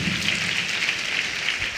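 A church congregation claps hands together in a sustained, dense patter of applause, close and steady.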